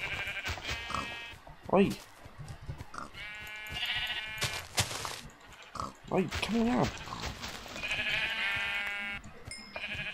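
Several sheep bleat in Minecraft, their wavering calls repeating across the scene, with someone talking and calling out between and over them.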